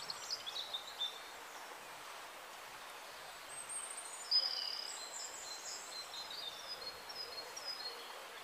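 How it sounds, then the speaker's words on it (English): Birds sing and chirp at a distance beside a quiet river valley, faint scattered calls over a soft, steady outdoor hush with occasional rustling. "there's just no sound except for birds."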